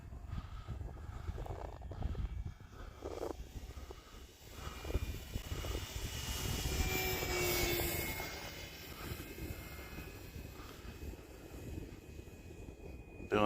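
Remote-control airplane flying inverted, its engine a continuous droning whine that swells and fades as it passes, heard from the ground at moderate distance.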